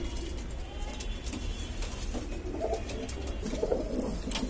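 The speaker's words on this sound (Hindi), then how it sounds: "ये अपना चितला कबूतर भाई" Madrasi pigeons coo softly in a loft in low, rolling bursts against a steady background hum, with a few scattered rustles.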